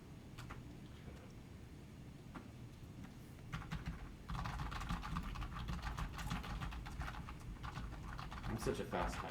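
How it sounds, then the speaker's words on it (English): Fast typing on a computer keyboard, a dense run of quiet clicks that grows busier partway through, heard under occasional talk. "I'm such a fast typer."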